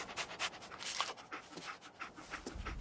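Dogmeat, the canine companion in Fallout 4, pants in quick, breathy bursts close by, a steady rhythmic huffing with no talk over it.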